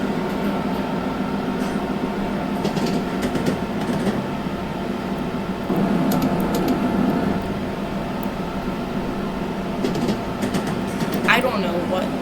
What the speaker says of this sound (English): This is a very slow locomotive